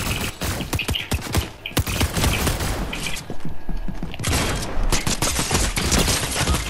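Pump shotgun fire in a video game, a rapid run of loud, close blasts and impacts across the whole stretch, with a short lull partway through before the shooting resumes.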